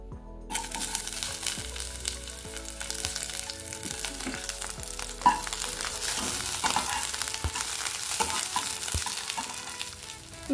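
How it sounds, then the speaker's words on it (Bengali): Brinjal (eggplant) frying in a kadai of hot oil, giving a steady bubbling sizzle with occasional stirring clinks and scrapes, close and continuous throughout. "আর এই তেলটাতেই এখন আমি বেগুনটাকে ভেজে নেব।"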